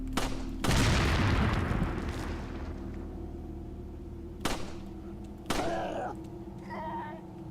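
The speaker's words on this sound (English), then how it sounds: "If I can shoot him when he lights the dynamite." Gunshots in Resident Evil 4 aimed at a dynamite-throwing enemy: a loud blast followed by sustained rumble, then several sharp separate shots and impacts spaced a second apart, with a low ambient drone throughout.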